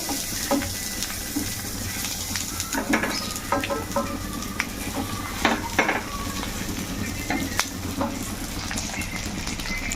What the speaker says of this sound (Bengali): বাকি পাতুরিগুলো একইভাবে ভেজে নেব।